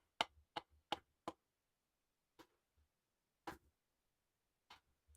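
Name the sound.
drumstick hitting a hi-hat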